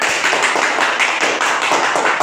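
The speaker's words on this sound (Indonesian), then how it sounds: "Oke, tepuk tangan." A classroom group claps hands together for a student group that has just finished presenting, a steady dense patter of many hands lasting throughout, fairly loud and close with no talking over it.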